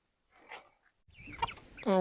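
Laying chickens cluck and call in short bursts while being fed earthworms, close by, with a louder sustained squawk at the end.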